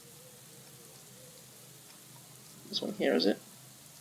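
Steady, soft hiss of rain in the cycling video game Pro Cycling Manager 2019 runs throughout, with a voice briefly speaking over it near the end.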